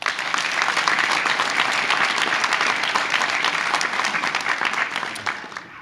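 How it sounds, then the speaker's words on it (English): A large audience at the University of Nevada State of the University address applauds faculty and staff, a steady, dense roar of clapping that holds for nearly six seconds before starting to thin. "would you all please join me in applauding our faculty and staff"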